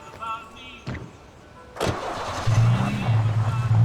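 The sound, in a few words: car engine starting in the video game Alan Wake Remastered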